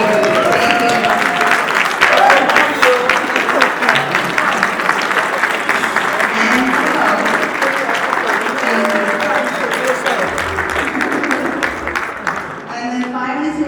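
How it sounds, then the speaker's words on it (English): Loud, sustained audience applause and cheering for an honoree at a Black business networking event, a dense steady roar of clapping with crowd voices mixed in that tapers slightly near the end. "I do want a round of applause and if possible, standing ovation for him"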